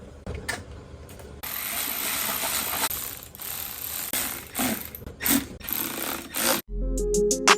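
A ratchet tightens a longer replacement bolt on a salvaged, wrecked Kawasaki Ninja ZX6R. Steady rapid clicking runs close by over a noisy background, with a few louder pulses near the end and no talking.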